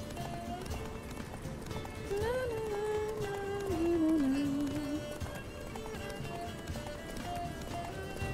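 Hooves pound in a steady galloping rhythm under continuous music in The Witcher 3, while a voice briefly strains and grunts in the middle.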